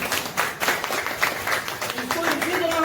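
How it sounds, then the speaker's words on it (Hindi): Audience applause at a handicraft skill-development gathering for women artisans in Varanasi, a steady round of clapping from a crowd held for about three seconds. "तालियां एक बार तो बजा दो भाई।"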